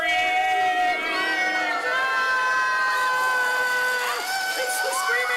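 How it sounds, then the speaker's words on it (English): Congregation and children scream and shout together in a loud, sustained crowd roar during a Purim family service, with shrill overlapping voices and whoops throughout. "It's the screaming prayer!"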